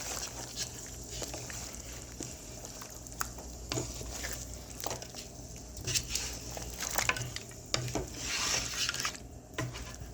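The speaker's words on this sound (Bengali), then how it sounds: "আর দিয়ে দিচ্ছি কিছু কিশমিশ। দিয়ে একটু নাড়া দিয়ে দিচ্ছি।" Raisins get stirred into chicken korma in a pan, with a steady soft sizzle under repeated light scrapes and taps of a spoon against the cookware.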